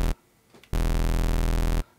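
An electro-style synth bassline runs through a tape compressor effect: a brief blip, then one buzzy, harmonically rich sustained bass note lasting about a second with a slight wobble, loud and alone.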